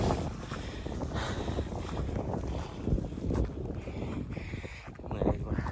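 Strong wind buffets the microphone outdoors in Laos's Xaisomboun province, a steady loud rushing roar with gusty swells, with a voice faintly beneath it.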